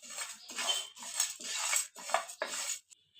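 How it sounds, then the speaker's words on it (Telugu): Cumin, fenugreek and sesame seeds dry-roasted on a low flame in a pan, stirred in steady scraping strokes that rasp and rattle in a regular rhythm with short pauses between them. "జీలకర్ర, మెంతులు, నువ్వులు ఇవి సిమ్లో పెట్టి దోరగా వేయించుకున్నాము."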